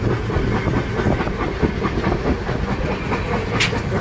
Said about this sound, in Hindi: Just listen the track sounds.